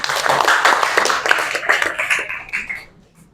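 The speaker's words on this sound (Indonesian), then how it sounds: "Ya, tepuk tangan untuk Zakia." Classroom applause at a junior high school, a burst of many hands clapping for a pupil that runs steadily for nearly three seconds before thinning out and stopping.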